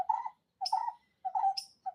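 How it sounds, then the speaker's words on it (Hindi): Clear chirping bird calls sound in short repeated phrases, about four bursts over two seconds, fairly close and alone with no talk over them. "आपके पीछे भाभी चिड़िया बोल रही है"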